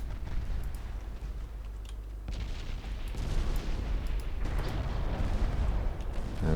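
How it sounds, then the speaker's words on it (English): Torpedoes striking and exploding against a warship in a 1949 naval warfare game, heavy muffled booms and rumbling blasts layered over continuous battle noise, with several sharper impacts along the way. "Oh, he took some torpedoes."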